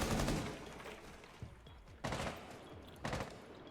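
Video game gunfire while shooting at an enemy: three bursts of rapid shots about a second apart, fairly faint, each sharp onset trailing off into a rattling decay.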